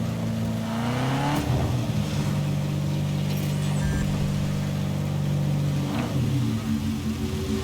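A car engine in Cyberpunk 2077 revs and accelerates loudly and continuously, holding a steady drone with rising pitch sweeps near the start and again toward the end.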